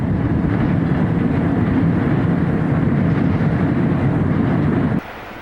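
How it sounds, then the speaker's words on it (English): A B&M freight train crosses the Connecticut River bridge at Cornish, New Hampshire, with a loud, steady rolling rumble held at close range before it cuts off abruptly near the end. "B&M freight crossing the Connecticut River."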